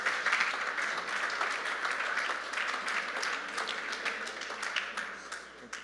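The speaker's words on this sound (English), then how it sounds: "Please give him a round of applause." Audience applause at an esports gaming event, a steady wash of many hands clapping that stays loud and dense throughout, tapering only slightly toward the end.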